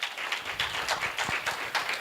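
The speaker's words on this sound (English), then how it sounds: "So a round of applause for representation as well." Applause from the audience at a youth panel discussion on challenges and solutions for Botswana, a steady wash of many hands clapping at moderate level throughout, with no talking over it.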